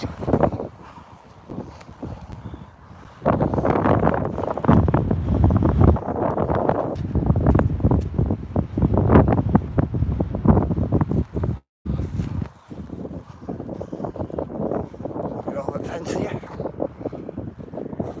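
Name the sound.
strong wind blowing into the microphone outdoors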